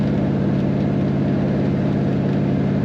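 An old gasser-style car engine with an electric cooling fan running on a road trip: a continuous, loud, low droning rumble that holds steady throughout with no voices.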